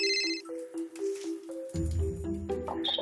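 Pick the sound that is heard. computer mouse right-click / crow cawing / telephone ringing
telephone ringing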